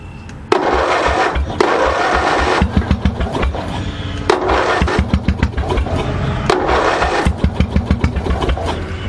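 A lawn tractor engine with a fuel problem cranks repeatedly, sputtering and catching in uneven bursts without settling into an idle, loud and close, with a rhythmic chugging series toward the end.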